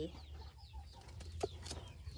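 A chicken clucks briefly and faintly in a rural Thai setting, a couple of short calls against low background rumble and some movement noise.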